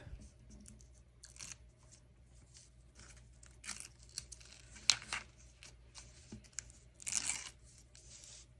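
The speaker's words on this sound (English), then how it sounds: "Now, I'm going to take all the sticky paper off." Sticky backing paper being peeled off a handmade Valentine's shaker card, a series of soft crackling tears and crinkles that come in short bursts, close and fairly quiet, with no talking.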